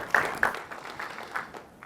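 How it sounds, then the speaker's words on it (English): A scattered round of applause from a conference audience for a presenter: a few sharp claps up front, then softer, thinning clapping over a short moment. "Round of applause for John"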